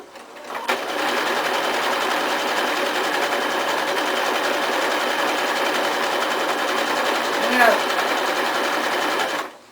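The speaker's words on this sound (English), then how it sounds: "I'm going to sew a scallop" A sewing machine runs steadily, stitching a scallop pattern into felt for a felt-food fish, a continuous close mechanical whir lasting nearly the whole span and stopping at the end.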